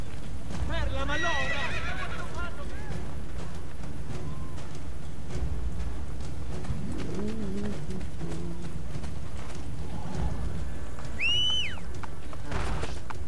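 A horse in the video game Assassin's Creed Brotherhood neighs loudly early on, then its hooves clip-clop in a steady gallop beneath a man's chatter, with a sharp high whinny near the end.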